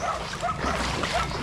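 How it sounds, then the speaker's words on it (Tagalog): Dogs bark and yip in the distance along a shore at high tide, a few short, thin calls rising over a steady wash of wind and water noise. "Rinig niyo 'yon, yung mga aso."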